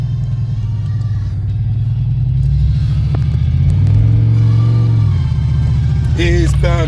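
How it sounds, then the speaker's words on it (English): A car engine rumbles and revs loudly and steadily while the car drifts sideways, with the exhaust leaking and people talking and laughing over the top. "Yeah, we're drifting."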